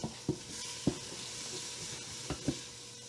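Chicken pieces cook with a steady hiss and sizzle in an Instant Pot while making chicken and gnocchi soup. A few sharp clatters of stirring and handling sound close by, and nobody speaks.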